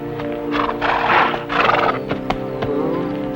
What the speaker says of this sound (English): You might fetch my horse.